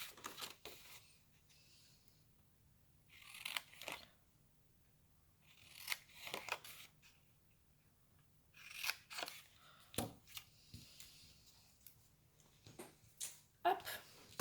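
Scissors snipping through paper while making a small sliding box for a 2020 Advent calendar, several short bursts of crisp cutting separated by quiet pauses, close and fairly soft.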